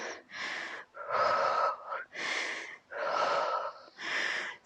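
Heavy, forceful breathing during a beginner's at-home HIIT cardio workout. Five long, loud breathy gasps rise and fall in a steady rhythm with short pauses between them, close to the mic.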